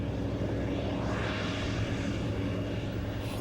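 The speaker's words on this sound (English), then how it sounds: "Here comes the tractor." A tractor pulling a grain wagon on a farm approaches with a steady, loud, continuous engine roar that swells slightly as it nears; no talking.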